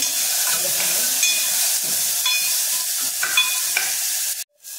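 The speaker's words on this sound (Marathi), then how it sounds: "आता आपण टाकणार आहोत थोडासा हिंग आणि टॅमॅटो थोडा परतायचा आहे." Garlic, asafoetida and tomato sautéing in a hot pan give a steady sizzle with brief bursts of crackle and stirring, close by, ending in a sudden short drop.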